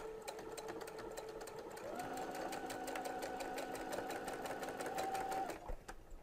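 A sewing machine fitted with a small hemmer foot stitches in a rapid, even run of needle clicks with a steady motor hum, at moderate volume and close by, before stopping near the end.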